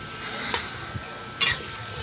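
Vegetables simmering in coconut milk in a pot, a soft steady bubbling under two brief close scrapes of a spoon stirring, with no talk.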